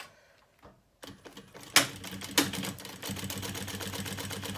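Sewing machine stitching the lining of a kids' lunch bag: after a brief quiet moment it starts up, runs in short bursts with a couple of sharp clacks, then settles into a steady fast whirring stitch.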